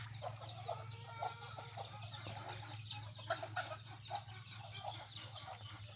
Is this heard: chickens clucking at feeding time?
yes